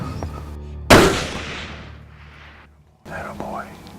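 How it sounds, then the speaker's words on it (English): A single loud rifle shot fired at a Texas whitetail deer, with a sharp crack and a long decaying echo; hushed voices are heard just before and briefly after it. "There comes the shot right there."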